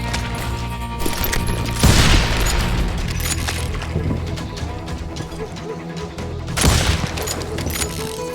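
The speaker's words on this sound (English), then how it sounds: "They're shooting in the street!" Gunfire rings out in the street in the video game Call of Juarez Gunslinger, with two heavy booming shots and scattered cracks over a busy din of shouting voices.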